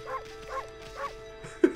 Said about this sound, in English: oh no, he found the bark button